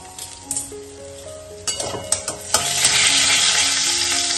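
Boiled dal poured into a hot pan of oil and ginger: a few metal clinks and knocks, then a loud, rising hiss of sizzling that holds steady, close by and with no talk.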